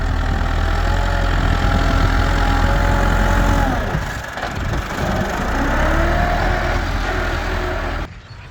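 A tractor engine used for digging and loading soil into a trolley idles with a steady low rumble, dipping briefly midway before settling back, close and continuous with no voices.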